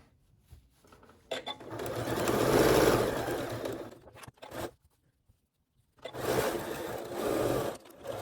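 A sewing machine back-stitching a simple origami fabric bag, running in two steady buzzing bursts separated by a short quiet pause.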